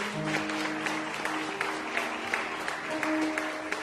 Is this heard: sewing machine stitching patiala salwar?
no